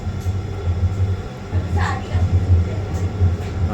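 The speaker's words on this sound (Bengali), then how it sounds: "ফার্স্ট ট্রেন তো বান্দ্রা থেকে আন্দেরি যেছে আন্দেরি থেকে ডাইরেক্ট বোরবলি" A Mumbai local train runs from Bandra toward Andheri, making a loud, continuous rumble of wheels and carriages that stays close throughout.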